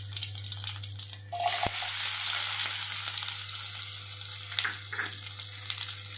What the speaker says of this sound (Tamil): எடுத்து கொஞ்சம் நல்லா வதக்கிக்கலாம்.